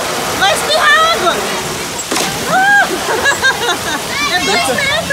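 Water splashing at a water park, a broad, steady wash of spray and sloshing beneath loud, excited voices that shout and squeal close by throughout.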